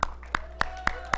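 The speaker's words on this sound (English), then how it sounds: "Give the Lord a hand clap and a shout." Hand claps from a church congregation, five sharp claps at an even, steady pace, close and fairly loud, with a faint hum underneath.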